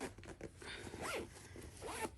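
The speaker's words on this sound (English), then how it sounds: "Zip this up" A garment zipper on a McCall's M8576 sewing project is pulled closed with two quick rasping zips, close and clear, in a quiet room.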